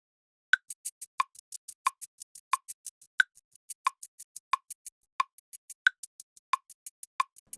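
A glitchy granular drum sample retriggers in rapid 16th notes, producing short clicky plops in a steady, even rhythm, faint and dry with no talking.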